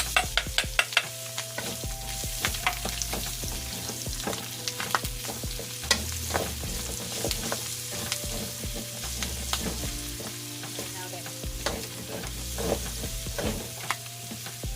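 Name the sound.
garlic frying in oil in a pan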